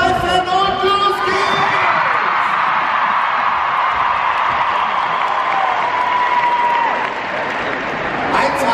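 Studio audience backstage at a German TV modeling show finale clapping, cheering, whooping and shrieking all at once, a loud sustained crowd roar with high yells and whistles throughout.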